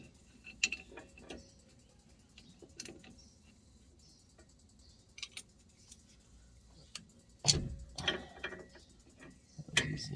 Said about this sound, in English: Different wrench. On this side.